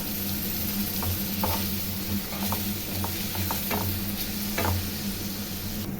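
Tomatoes sauté in oil in a pan for an egg pepper fry, giving a continuous close sizzle with scattered scraping stirs throughout and no talking.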